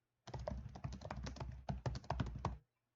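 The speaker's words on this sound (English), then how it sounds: "So even though I keep typing" Rapid typing on a computer keyboard, a quick, close run of light clicking keystrokes lasting a couple of seconds, with brief pauses between bursts, heard alone in a quiet room.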